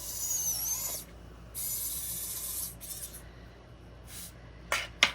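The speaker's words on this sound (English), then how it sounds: "So I'm just going to use my regular drill here." A regular drill bores into the middle of a polymer clay suncatcher in several short, faint, hissing whirs separated by brief pauses.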